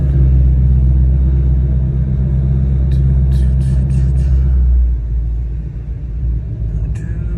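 A car engine rumbles steadily and loudly up close, easing off partway through as the vehicle slows while pulling into a car meet lot, with a few faint clicks over the drone.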